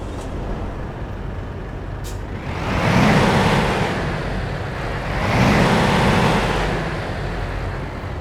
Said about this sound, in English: let's get our Volvo 780 started up and get on the road